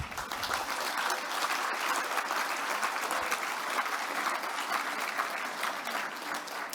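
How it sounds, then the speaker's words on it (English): An audience at the Fraser Valley Cultural Diversity Awards applauds for Canada, steady dense clapping from a crowd that carries on evenly through the whole stretch with no voices over it. "Let's give our country a big round of applause for being welcoming"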